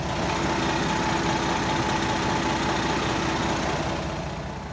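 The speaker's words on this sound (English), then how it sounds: "that is a smooth ISL Cummins right there" Cummins ISL diesel engine idling beneath a 2007 Monaco Camelot 40PDQ motorhome coach, recorded up close near the radiator and exhaust: a loud, smooth, even rumble held steady without any voices.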